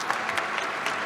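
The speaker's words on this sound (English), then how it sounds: "Let's give her a round of applause." A short burst of audience applause for a contestant in the Dis-Chem Brain of 702 quiz at Fourways Mall, a crowd clapping in a brief, even patter.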